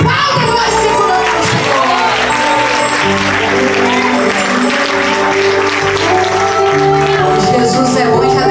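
A church congregation claps and cheers continuously and loudly, a dense crowd roar with shouts over steady music.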